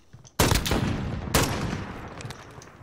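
Two sharp, loud gun blasts ring out in Call of Duty Modern Warfare, each followed by a decaying echo and a trailing rumble.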